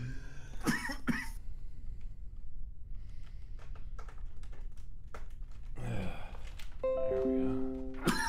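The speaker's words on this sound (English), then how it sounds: "Cough through it." A person coughs twice in quick succession during a live unboxing of sim-racing gear, with soft keyboard typing and clicks between them, then a throat-clearing cough and a short voiced tone near the end.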